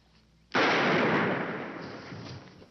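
A single loud gunshot from a film scene, an abrupt close blast followed by a long decaying roar.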